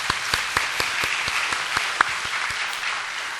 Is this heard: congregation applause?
yes